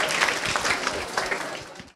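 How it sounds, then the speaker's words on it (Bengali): Loud, dense applause from a school audience at a student quiz competition, a sustained wash of many hands clapping that runs steadily before cutting off abruptly at the end. "আবারও জোরে একটি হাততালি দেই।"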